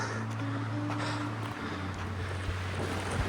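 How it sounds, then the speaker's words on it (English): Steady, blustery wind roars against the microphone near the summit of Mount Olympus in Roosevelt National Forest, a constant low rumble with occasional gusts and no voices. "Holy shit, it is windy."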